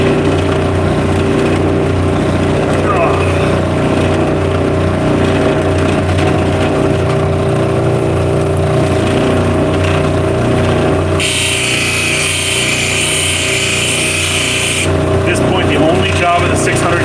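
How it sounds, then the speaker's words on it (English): A rock is polished on a 600 grit wheel. A loud, steady motor hum runs throughout, with a brighter, hissing grind that swells for a few seconds partway through. "Job of the 600 grit wheel is to take out the scratches from the wheel before."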